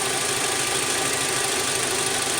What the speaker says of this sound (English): The engine is on, so let's press enter.